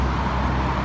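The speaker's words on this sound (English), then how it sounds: "200 feet back and you could not hear this traffic." Steady roar of car and bus traffic on a busy road running beside an old cemetery, a continuous close wash of engine and tyre noise with no break.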